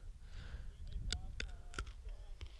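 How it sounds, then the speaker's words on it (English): Soft wet clicks and crunches of a cough drop being chewed close to the microphone, a few distinct snaps spaced irregularly over quiet background. "That's me chewing the cough drop."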